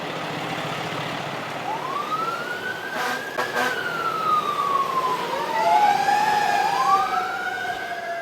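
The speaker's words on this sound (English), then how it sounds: "When you heard the fire trucks, when you heard the alarms" A San Diego fire engine siren wails and rises, its pitch sweeping up and down as it passes, with traffic rumble beneath and a couple of short horn blasts.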